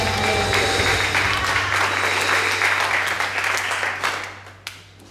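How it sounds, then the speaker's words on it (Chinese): A church congregation claps in praise during a Taiwanese-language Sunday worship service, a dense, sustained round of applause from many hands that carries on for several seconds, then thins and fades toward the end. "我们不停止拍手赞美"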